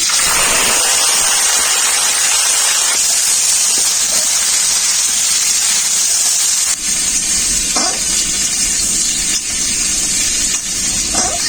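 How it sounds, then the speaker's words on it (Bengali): Jackfruit frying in hot mustard oil in a kadai gives a loud, dense, continuous hiss and sizzle, with a few faint knocks near the end. "এঁচড়টা ভেজে নেব।"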